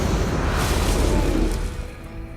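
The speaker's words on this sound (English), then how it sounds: "Yeah, we can cannon again." A cannon fires in a monster-hunting video game, a single loud, close boom whose broad rumble rolls on and then fades.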